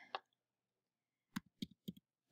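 A few sharp computer keyboard key presses, one isolated tap followed after a pause by a quick irregular cluster of clicks, close and fairly quiet in an otherwise silent room.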